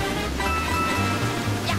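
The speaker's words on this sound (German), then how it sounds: "hier kann man in den Wasserfall reinspringen" Continuous loud hiss and roar of rushing water from a waterfall in Super Mario 3D World, steady throughout, with soft tonal game music layered beneath.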